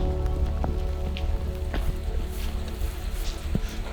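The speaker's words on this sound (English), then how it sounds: "the rain is becoming a factor" Steady rain falls on a beach campsite during winter Jeep camping, a dense patter with scattered sharper drops striking surfaces nearby, continuous throughout with no talking.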